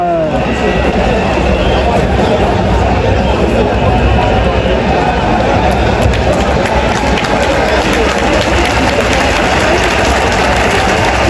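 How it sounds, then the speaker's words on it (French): A football stadium crowd roars steadily in encouragement for a collapsed player, a dense unbroken wash of cheering and babble from thousands, loud and sustained throughout. "Le public qui acclame pour l'encourager"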